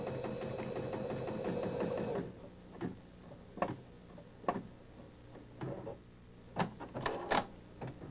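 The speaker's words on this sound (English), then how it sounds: "The Esante will continue to stitch until all the letters that have been entered" A Baby Lock Esante embroidery machine stitches letters with a steady mechanical whir at first. Then come quieter gaps broken by separate clicks and ticks as the hoop moves between letters.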